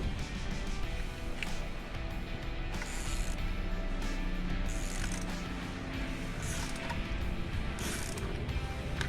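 A socket wrench ratchets a lock nut on the sliders of a 2020 Ducati Monster 797 Plus, giving quiet, quick clicking bursts with small pauses, heard up close.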